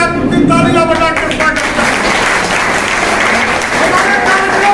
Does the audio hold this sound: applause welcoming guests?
yes